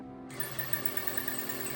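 A sewing machine motor spins steadily while winding an empty bobbin, a continuous close whirring hum with a faint whine that starts up and holds through the short stretch, no talking.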